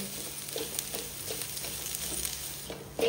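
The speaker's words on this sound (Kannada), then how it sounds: "ತೆಂಗಿನ ತುರಿ ಮಾತ್ರ ಒಳ್ಳೆ ಫ್ರೈ ಆಗಬೇಕು." Grated coconut dry-fries in a pan for Mangalorean chicken sukka, giving a soft, steady sizzle with faint scraping pulses of stirring, quiet and close.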